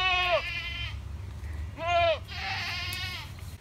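Goats grazing invasive plants bleat in two or three wavering, nasal calls, one clearly closer and louder, over a low outdoor rumble.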